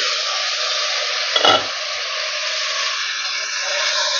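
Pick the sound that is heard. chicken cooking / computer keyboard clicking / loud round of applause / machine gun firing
chicken cooking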